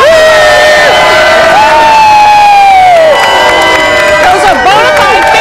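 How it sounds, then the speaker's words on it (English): A festive crowd at an outdoor holiday food drive cheers and whoops loudly and continuously, with shrill children's shouts and high voices rising above the din throughout. "Very festive, very wonderful crowd."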